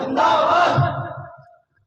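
Crowd at a religious gathering shouting a chanted response in unison, one loud collective burst that swells and then fades out within a second or two.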